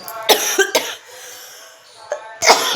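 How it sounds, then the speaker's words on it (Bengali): A person coughs close to the microphone: a few sharp, harsh coughs in quick succession, a short pause, then more coughing. "গলার কাছে খুসখুস হচ্ছে আর কন্টিনিউ কাশি হতে থাকছে"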